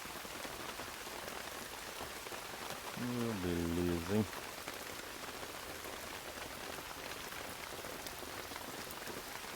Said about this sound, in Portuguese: Deu uma parada ali de plantar por causa da chuva,